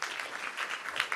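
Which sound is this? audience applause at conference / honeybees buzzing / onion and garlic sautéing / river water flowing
audience applause at conference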